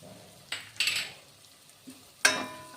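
Spices with cumin powder, curry leaf powder and turmeric stirred in a pan, a few short scraping strokes of a spoon against the metal over a faint background, with no talking.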